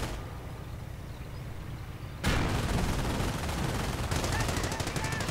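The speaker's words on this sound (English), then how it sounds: "everyone is getting suppressed by the MG42 nearby" MG42 machine gun fire in a WWII video game, a dull distant rumble that gives way to a sudden loud burst of rapid, sustained automatic fire, intensifying again toward the end amid battle noise.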